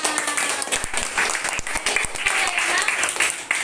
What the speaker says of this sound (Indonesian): Yeay, tepuk tangan.